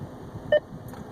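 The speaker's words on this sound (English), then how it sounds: "pressing the button, waiting for the beep, and then telling the command system what you want" A single short electronic beep from the voice command system of a Mercedes GLC or C-Class sounds once, clear and brief, inside a quiet car cabin.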